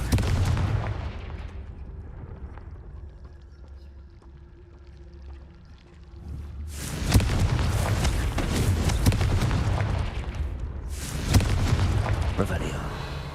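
Confringo blasting-spell explosions in Hogwarts Legacy, with a booming burst that rolls on for several seconds, a quieter stretch, then another heavy blast, loud and close over game ambience.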